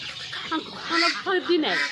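Ducks on a farm holding about 350 birds quack in short, close bursts, mixed with a person talking.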